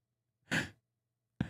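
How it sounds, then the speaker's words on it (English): Two close, breathy exhalations from a tired dog panting after a trip to the park, a longer huff followed by a shorter one after a pause, with no voices. "she's just sitting there panting"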